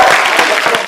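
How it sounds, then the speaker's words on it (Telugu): A group of girls clapping loudly for the winning girls' team on a game show, a brief, close burst of dense, energetic applause with individual claps audible in quick succession. "అమ్మాయిలు గట్టిగా క్లాప్ ఇస్తారు అమ్మాయిల కోసం"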